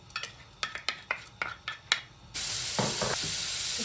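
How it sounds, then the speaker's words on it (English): Onion sautéing in vegetable oil: a series of close utensil taps and stirs against the pan, then a sudden loud, steady sizzle that continues to the end. "We're going to saute the onion."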